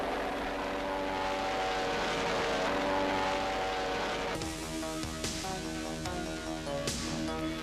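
P-38 Lightning twin-engine WWII fighter aircraft with a steady propeller engine drone, loud and continuous, shifting tone partway through with a few brief transients.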